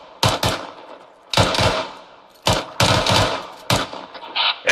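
Bursts of automatic gunfire in the Arma 3 military co-op game, several loud close volleys of rapid shots separated by short pauses, with no talking.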